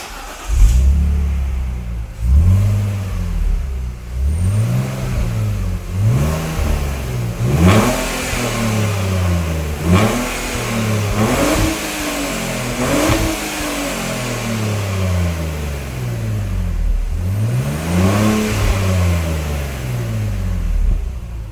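A BMW Z4 engine is revved repeatedly on a rolling road dyno, each rev rising and falling in a series of loud, close swells, around a dozen blips in steady succession with the engine droning between them.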